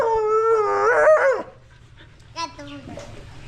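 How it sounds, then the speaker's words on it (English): A dog close by lets out a long wavering howl, then after a short pause gives a few higher whimpering cries. "Crazy dog."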